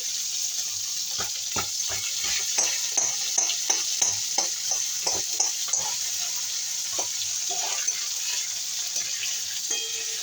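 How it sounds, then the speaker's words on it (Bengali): Pitha frying in hot oil, a bright continuous sizzle with a run of quick scraping and stirring taps in the middle, close by and fairly loud. "তেলের মধ্যে ভাজবো"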